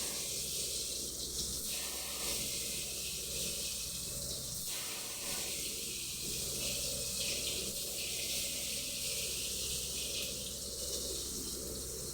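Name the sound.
washing rice under running tap water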